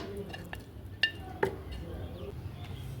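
Ingredients for goat trotter nihari are tipped into a cooking pot, giving a couple of sharp metallic clinks and knocks against soft background clatter, close by with no talking.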